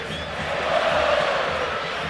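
Brazilian stadium crowd applauding an Argentinian player at an Argentina vs Brazil World Cup qualifier, a steady broad roar of clapping and cheering that swells slightly mid-way and holds without a break.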